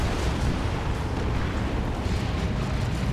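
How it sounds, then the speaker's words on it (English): A missile launcher explosion in the game Dawn of War 2 comes as a continuous loud, rumbling blast of booms and crackle that stays dense throughout. "Missile launcher for disruption there."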